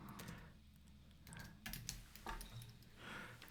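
Typing on a computer keyboard in a quiet room, with soft, irregular key clicks in short bursts that come and go. No one speaks.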